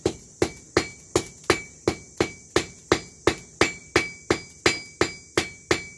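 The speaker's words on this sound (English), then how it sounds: "nice light taps" Light hammer taps on hot steel held at the edge of an anvil while forging a hook, sixteen or so evenly spaced ringing strikes with bright metallic overtones, close and alone.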